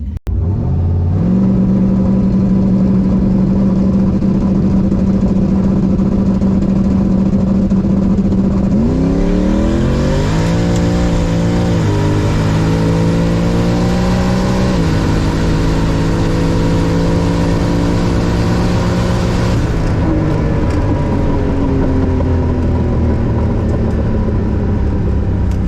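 A Nissan 240 launches and accelerates hard down a drag strip, its engine droning loudly near the mic, then climbing in pitch through several rising gear pulls before settling into a steady high run and easing off at the end.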